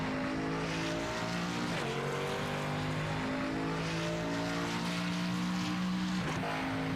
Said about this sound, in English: Hear how early he is shifting, trying to save all the fuel he can.